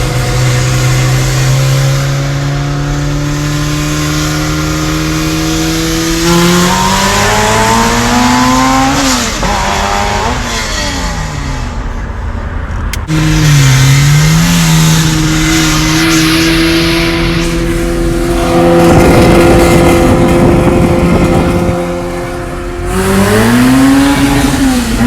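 Honda Accord with a K24/K20 engine accelerating hard with its wheels spinning, loud engine rising in pitch through repeated gear pulls, with tire noise, close and alone without talk.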